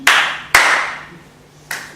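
Three sharp hand claps ring out on a theatre stage, two close together and a third after a pause, each loud and decaying quickly with no voices around them.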